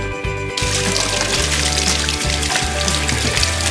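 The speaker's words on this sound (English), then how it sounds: "run them under some cold water." Cold water runs from a kitchen tap over hands before pastry for curried vegetable pasties is rubbed together by hand, a steady close splashing wash lasting a few seconds, loud and without talk.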